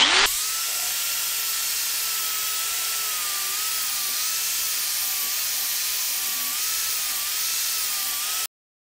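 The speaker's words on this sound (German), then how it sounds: "und jetzt schleifen, schleifen, schleifen" A power sander grinds steadily over the metal fuel tank of a Simson SR2 motorcycle, a loud continuous whirring hum with a faintly wavering pitch that runs for about eight seconds, then stops abruptly.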